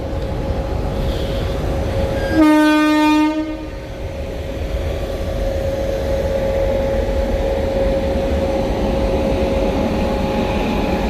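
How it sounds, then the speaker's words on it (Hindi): A train begins to move off after a signal clears, its steady rolling rumble running throughout and a loud horn blast sounding about a second in, heard close with no voices. "चल दी ट्रेन।"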